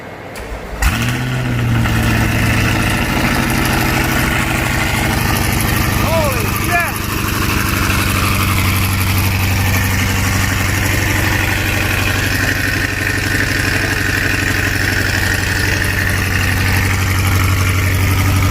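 A Corvette C8 fitted with longtube headers cranks and fires up, then settles into a loud, deep, steady idle that rumbles on for the rest of the clip, close by.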